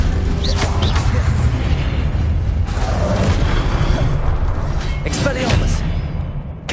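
An Incendio fire spell is cast during combat in the video game Hogwarts Legacy, giving dense, booming bursts of flame over a loud, busy battle.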